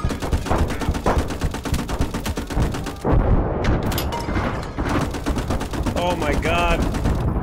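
Rapid machine-gun bursts and scattered gunshots fill a World War II game battle in hedgerow country, loud and nearly continuous, with a brief lull midway and a shouted exclamation over the firing.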